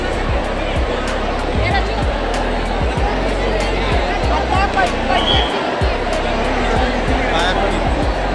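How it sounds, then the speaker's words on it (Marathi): Devotees crowd a temple during a Bhogi festival, a loud dense roar of voices and movement that never lets up, with rhythmic low thumps repeating through it. "एकदम जबरदस्त गर्दी"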